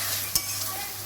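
Spice masala for a beef tripe bhuna being stirred hard in a pan: a continuous hissing fry with two quick scraping strokes of the spoon, close and steady, no voices.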